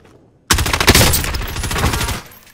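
Rapid, loud gunfire bursts in the video game Call of Duty Warzone Rebirth Resurgence, breaking in suddenly and hammering on for almost two seconds before cutting off.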